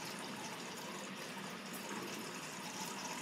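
A Blomberg washing machine filling with water for its final rinse, a steady, even hiss and rush of incoming water that continues unbroken and fairly quiet, with no talk.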